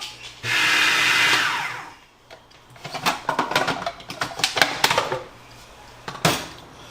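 A food processor blends garlic scape pesto with olive oil in one loud, steady whirring burst lasting about a second and a half, followed by clattering and scraping of the bowl.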